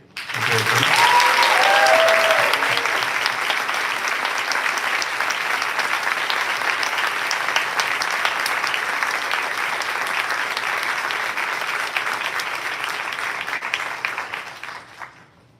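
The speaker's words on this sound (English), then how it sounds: "Another round of applause for that" Sustained, loud applause from an audience at a senior awards ceremony honoring the class of 2023 salutatorian and valedictorian; a brief voice rises early, then the clapping holds steady before fading out.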